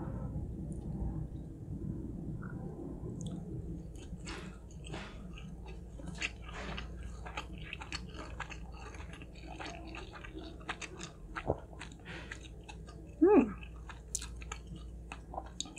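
Close, quiet chewing of tuna sashimi and assorted sushi, soft moist mouth sounds and small bites repeating irregularly over a low background, with one brief louder burst near the end.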